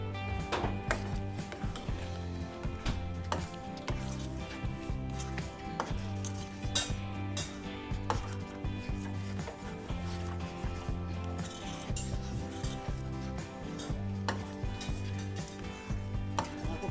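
Ragi and lentil dish stirred in a pot at home, with steady scraping and clinking of a utensil against the pot repeating in a rhythmic pattern throughout, close and continuous with no talk.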